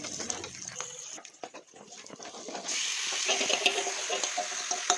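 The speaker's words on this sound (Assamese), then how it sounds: "এয়া আমাৰ চিকেনখিনি ফ্ৰাই হৈ আছে" Steady hissing sizzle of mutton frying in a pan with onions, with scattered clicks and clatter early on, then a louder, denser sizzle for the rest.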